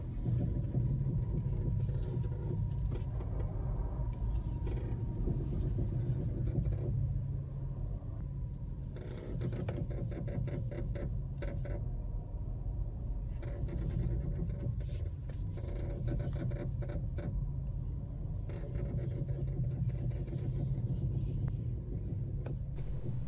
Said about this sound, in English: Every time I make a turn, the front end is making this horrible grinding sound.